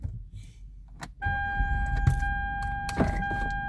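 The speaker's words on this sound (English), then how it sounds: "I'm in my car." Interior of a car: a few soft rustles and clicks, then a steady whining electric motor, such as a power window, runs from about a third of the way in, with sharp knocks and handling noises over it and no talking.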